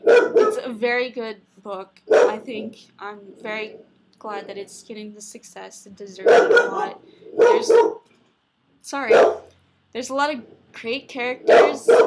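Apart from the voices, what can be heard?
dog barking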